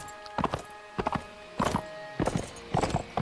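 Horse hooves clip-clop over rough terrain in the video game Mount and Blade, five short clustered bursts of hoofbeats spaced about half a second apart, close and clear.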